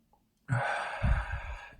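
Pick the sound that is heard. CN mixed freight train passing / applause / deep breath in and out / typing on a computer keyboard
deep breath in and out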